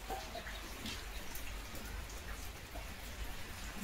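Rain falling steadily outdoors, a soft continuous patter of drops with scattered closer splashes, fairly quiet and with no talking.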